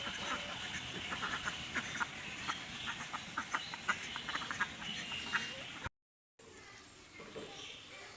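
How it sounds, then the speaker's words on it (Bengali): Ducks quack in quick repeated bursts close by, a busy overlapping chatter that cuts off abruptly, followed by quieter ambient noise. "হাঁসগুলো মনে হয় খাওয়ার জন্য আসছে না"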